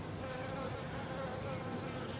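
Honeybees buzzing inside an open hive during an inspection, a dense, steady drone of many bees close by, continuous and fairly quiet, with a few brief sharper rustles and no talking.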